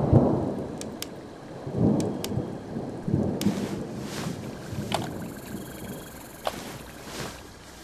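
Thunderstorm in the horror video game Boogeyman 2, with rolling low thunder rumbles and steady rain noise throughout, plus a few sharp crackling strikes of lightning, fairly loud with no talking.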